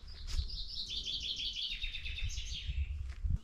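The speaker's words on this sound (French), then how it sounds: "Oh Bichette, l'oiseau il est coincé" Small bird trapped near a little chapel, chirping in a quick run of bright, high tweets, fairly close over a low background rumble with no speech.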